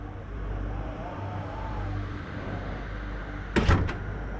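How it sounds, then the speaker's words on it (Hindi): A door shuts in a home setting with a short double thud near the end, heard over a steady background hum and room noise. "मैं दरवाजा बंद करके आती हूँ"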